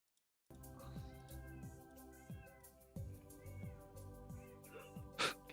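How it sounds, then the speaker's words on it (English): A pet cat freaks out in the background, letting out a string of faint, drawn-out meows and yowls that keep returning over a steady tonal backdrop. "Can y'all hear my cat just freaking out in the background?"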